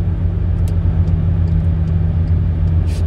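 Car traffic on a city street in Maceió, Brazil: a steady, loud low rumble of passing engines that continues without a break.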